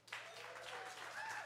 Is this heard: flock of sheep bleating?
no